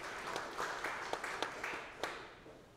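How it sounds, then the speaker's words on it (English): Scattered applause from a church congregation celebrating birthdays at an Episcopal service, a fairly quiet patter of claps with a few sharper individual hand claps standing out over about three seconds. "A round of applause."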